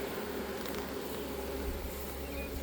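A honey bee swarm being moved into a hive gives off a dense, continuous buzz, close and steady, with a low hum beneath it and no voices.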